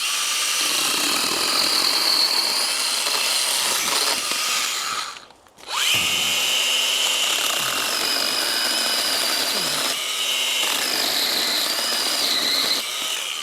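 A ProCraft PKA 32 Li cordless mini chainsaw whines loudly and steadily cutting small pieces of wood, briefly dropping out mid-clip before revving up again, with pitch dipping under load.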